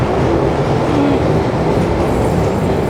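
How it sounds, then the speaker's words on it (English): London Underground train arriving at the southbound Lambeth North platform, a loud, continuous rumble with rattling wheels and rushing air filling the platform. "another train coming on the southbound"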